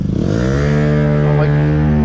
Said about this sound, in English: These friggin' loud ass scooters.